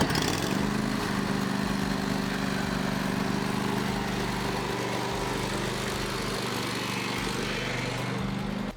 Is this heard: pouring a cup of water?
no